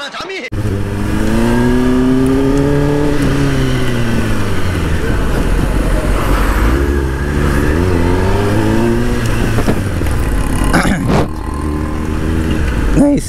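A Kawasaki ZX10R motorcycle being ridden, its engine loud and close with rising and falling revs, steady high-pitched whine and a couple of sharp bursts near the end.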